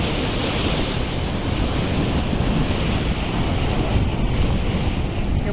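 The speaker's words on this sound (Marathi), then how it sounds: "कसं धडकतंय पाणी." Floodwater from the overflowing Veer dam on a rain-swollen river roars in a loud, continuous rush of crashing water, with steady wind-like noise across the whole stretch and no voices.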